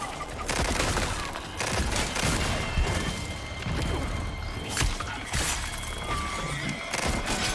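Rapid gunfire in Resident Evil 4 Remake, a dense string of sharp shots and impacts crackling over several seconds amid clattering game effects.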